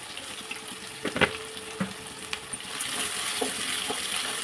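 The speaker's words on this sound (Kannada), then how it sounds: "ಈರುಳ್ಳಿ ಸ್ವಲ್ಪ ಫ್ರೈ ಆಗಲಿ" Onion frying in a pan for a potato palya, a soft steady sizzle with a few sharp clinks and scrapes of a utensil early on, then the hiss growing fuller and more even.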